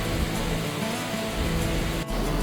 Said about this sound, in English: She's a lovely 92-foot waterfall